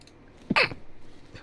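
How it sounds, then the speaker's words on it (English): A single short, sharp sneeze bursts out close by, over a quiet background. "Oh crap, I sneezed"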